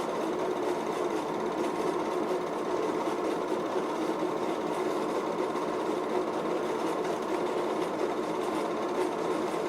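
Big steam engines running at a show, giving a steady, continuous mechanical chugging drone with a dense, even rumble and no pauses.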